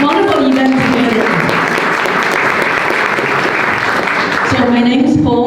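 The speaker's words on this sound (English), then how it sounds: "let's give a round of applause to all the organizers for putting such a wonderful event together" A room full of people at a community candidates' forum gives organizers a loud, sustained round of applause, dense and close, swelling in the middle, with a speaking voice audible at the start and again as it fades.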